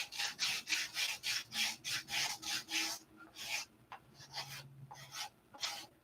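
Rhythmic abrasive rubbing of sandpaper on wood, steady back-and-forth strokes that slow and become irregular toward the end, close and moderately loud.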